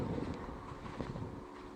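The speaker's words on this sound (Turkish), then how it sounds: "Rüzgar var bayağı bir." Strong gusting wind buffets the microphone outdoors among the fairy chimneys of Phrygia, Turkey, as rain approaches, giving a steady low rumble with no voices.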